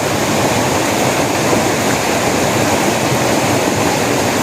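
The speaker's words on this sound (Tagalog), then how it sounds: "Masarap ito buhusan ng tubig, oh. Para malinis." Continuous loud rush of water poured over stone, splashing steadily and close with no pauses or voices.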